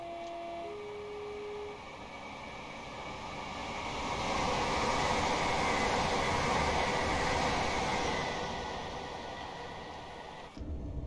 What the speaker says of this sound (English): let's watch our train come past by clicking number 4 to come out of the view